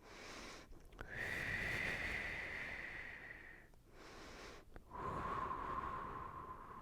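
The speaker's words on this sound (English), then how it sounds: "Inhale through your nose, exhale through pursed lips." Slow, close yoga breathing: a long airy inhale through the nose, then a steady exhale through pursed lips with a faint whistling tone, repeated twice with soft breaths between.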